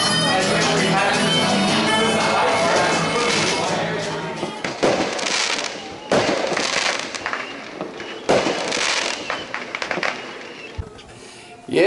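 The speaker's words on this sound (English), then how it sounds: "and there's even fireworks at Brushgrove" Fireworks crackle and burst repeatedly at a distance over the Clarence River at Brushgrove, with a dense rolling rumble at first, then sharp separate bangs echoing through the night air.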